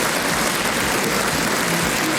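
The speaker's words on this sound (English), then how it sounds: "massive round of applause for Graham there" A live festival audience applauds a man in a wheelchair, a dense, even wash of many hands clapping, steady and loud for the whole stretch.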